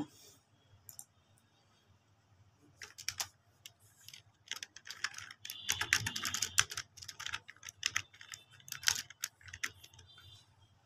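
Keys clack on a computer keyboard as a first program is typed for a university math lab practical, in uneven bursts of quick taps with short pauses, close and fairly quiet, with no voices.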